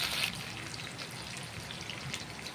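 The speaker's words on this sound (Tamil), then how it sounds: "இதில் வந்து நம்ம தாளிப்பு கட் பண்ணி வச்சுருக்கிறது எல்லாமே போட்டுக்கலாம்." Green chilli, ginger and coriander fry in a pan of mixed oil and ghee, giving a steady, fine crackling sizzle that stays fairly soft and constant throughout.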